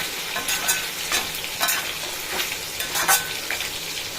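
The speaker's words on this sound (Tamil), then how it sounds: "நல்லா நல்லா கிளறி விட்டுறணும்" Chettinad mutton chukka fries in a pan while a spatula stirs it repeatedly, giving rhythmic bursts of scraping and sizzling every half second or so, close and moderately loud.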